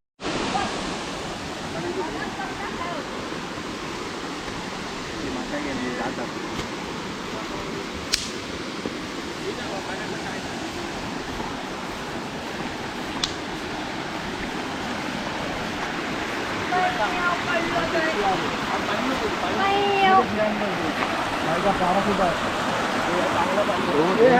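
A forest stream flows beside a resting spot, making a steady broadband rush of water that holds throughout and swells slightly louder toward the end, with a couple of faint clicks but no clear talk.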